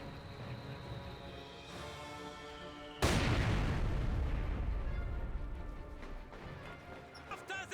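A stun grenade goes off in the video game Company of Heroes 2, a sudden loud blast about three seconds in that cuts through quieter battle ambience and fades into a long, noisy tail with scattered pops afterward.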